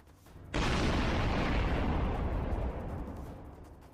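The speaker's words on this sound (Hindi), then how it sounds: "तेज धमाका।" A loud explosion booms suddenly after a brief quiet moment, then a deep roar fills the air and slowly rolls away over several seconds.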